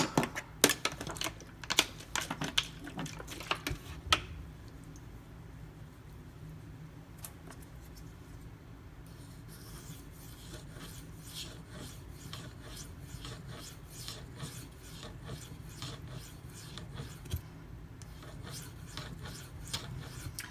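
A Spyderco Dragonfly knife blade is stroked across a Shapton Pro 5000 grit whetstone, giving soft repeated rasping scrapes, close and quiet, with a few sharper clicks at the start.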